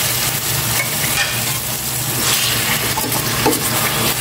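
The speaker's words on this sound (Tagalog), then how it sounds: "Gisa ko muna itong mabuti." Pork sautés in a pan for pinakbet, a loud dense sizzle and crackle with intermittent stirring scrapes, close and steady throughout with no voices.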